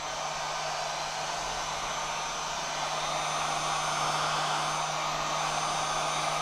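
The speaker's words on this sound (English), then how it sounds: "Heat gun." A heat gun blows hot air steadily over vinyl wrap on a car hood, a continuous loud whooshing hiss with a low hum, unbroken and close for the whole stretch, with no talking.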